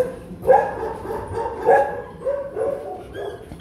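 Puppies in an indoor shelter area give several short, close barks and yips at irregular intervals, with faint whimpering between them.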